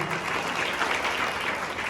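An audience at a Hindu gathering applauds Priyanka Kolte, steady dense clapping from a crowd, moderately loud and sustained throughout.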